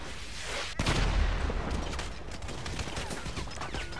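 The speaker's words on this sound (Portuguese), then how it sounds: "Quem tá dando tiro de mim isso aí?" Dense gunfire in Grand Theft Auto 5, with one sharp, loud shot standing out over a steady rattle of shots and chaotic background noise.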